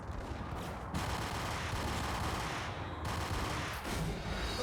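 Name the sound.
sniper gunfire in the video game Max Payne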